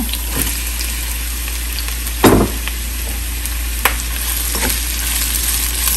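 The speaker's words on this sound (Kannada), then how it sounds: "ಇದನ್ನು ಸ್ವಲ್ಪ ಚೆನ್ನಾಗಿ ಕೆಂಪಗಾಗೋ ತನಕ ಹುರ್ಕೊಳ್ಳೋಣ." Onions frying in a pan while cooking a drumstick fry, a loud continuous close-up sizzle over a steady low hum, with a couple of brief stirring knocks and scrapes and no voices.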